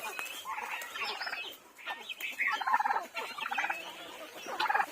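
A rooster and other fowl cluck and gabble close by in a busy, steady stream of short chattering calls, with no talking.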